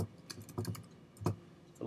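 Light typing on a computer keyboard, a few scattered clicks and a short burst of keystrokes, close but quiet, with no voice.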